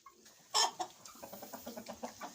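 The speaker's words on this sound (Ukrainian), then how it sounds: "Ось курочка чорненька, гарна, та що мені подобається." A young black hen clucks close by, one sharper cluck followed by a rhythmic run of soft, quick clucks in a quiet setting.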